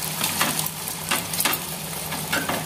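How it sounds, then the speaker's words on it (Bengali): Beaten egg mixture poured into hot oil in a home kitchen pan, a steady crackling sizzle with brief louder bursts of spattering, close and continuous with no talking. "তেলটা গরম হয়ে গিয়েছে, তো আমি এবার ডিমগুলো দিয়ে দিচ্ছি। ডিমের মিশ্রণটা ঢেলে দিচ্ছি।"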